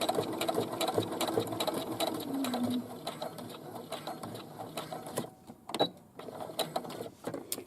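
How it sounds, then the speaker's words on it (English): A sewing machine stitching bag straps, a fast, loud mechanical rattle of the needle running steadily, then stopping and restarting in short bursts as the seam is pivoted at a corner. "I want to stitch almost to the end, but I have to stop and pivot"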